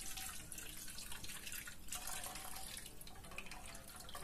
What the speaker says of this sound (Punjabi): ਸਾਰਾ ਪਾਣੀ ਆਪਾਂ ਦਲੀਏ 'ਚੋਂ ਕੱਢ ਦੇਣਾ।